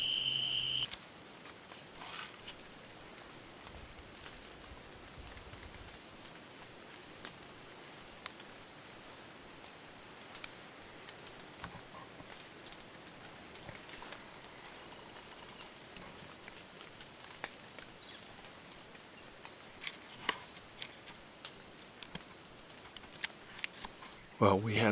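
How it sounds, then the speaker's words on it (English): Crickets chirp in a continuous, high, steady trill throughout, a constant insect drone with a few faint rustles and taps, at a Missouri food plot during early-season archery hunting. "the chirping of crickets"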